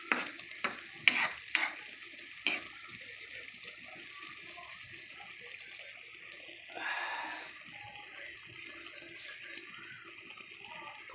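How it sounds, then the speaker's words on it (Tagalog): Adobong kangkong with a little pork fat simmers and sizzles in a pan. A few sharp utensil clinks come first, then a steady, fairly quiet bubbling hiss carries on alone. "Kumukulo pa mga guys, mga lods."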